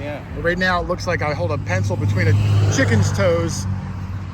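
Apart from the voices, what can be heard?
traffic noise from a nearby four-lane highway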